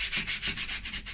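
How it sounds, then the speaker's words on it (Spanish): Fine sandpaper lightly sanding a primer coat on a wall clock, heard up close as quick, even back-and-forth scratchy strokes, about eight passes in a steady rhythm with no talking. "lijar el fondo, una lijita suave"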